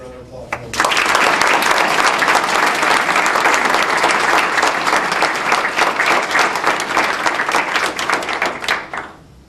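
After a brief moment of voice, a gala crowd breaks into loud, full applause lasting several seconds before thinning out and fading at the end.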